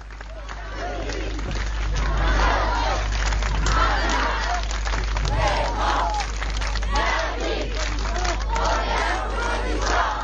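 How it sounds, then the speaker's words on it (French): A crowd at a French town gathering, with the mayor present, cheers and shouts together in a loud, sustained roar with scattered clapping and overlapping voices, continuing unbroken. "Acclamation du public"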